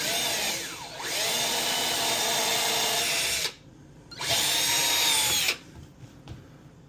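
Power drill boring holes through a pinball kit playfield, two long loud whining bursts with a pitch dip at the start of each, separated by brief quiet gaps, close and alone.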